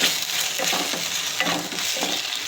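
Homemade pizza sauce with pepper sautés in a pan, giving a dense, steady frying hiss with soft stirring scrapes throughout, close and fairly loud, with no voices.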